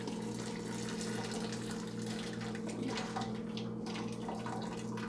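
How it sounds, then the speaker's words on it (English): Hot broth draining and trickling steadily from a lifted cooking bag of ingredients, a continuous watery splatter and patter close by with no talk. "Let the broth strain a little bit."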